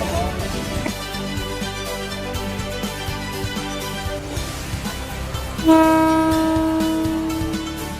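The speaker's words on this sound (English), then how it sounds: "The train moves through the market slowly, gliding over the fruit" A train creeps slowly through a railway market in Bangkok, rumbling steadily on the tracks before its horn sounds a loud sustained blast that lingers to the end.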